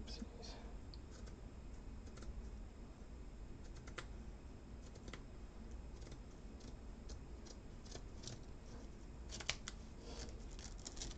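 Scissors snipping pieces off while crafting a model pirate ship, a series of soft close cuts and small clicks running steadily under faint background noise.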